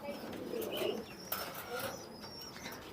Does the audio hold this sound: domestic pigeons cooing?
yes